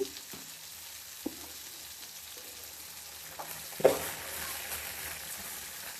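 Tomatoes with salt and turmeric frying in a pan, a soft steady sizzle broken by a few sharp clicks of a spoon against the pan as they are stirred.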